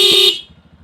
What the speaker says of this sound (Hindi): इसका हॉर्न अगर सुने तो हॉर्न का काफ़ी लाउड है